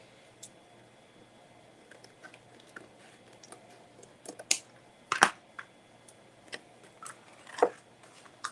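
Trimming an embossed pumpkin wreath craft gives sparse, crisp snips and clicks, close and quiet, spaced irregularly against near silence with no talk.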